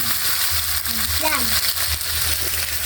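Vegetables sauté in a hot pan with a steady, close frying sizzle and occasional stirring. A faint voice rises briefly partway through.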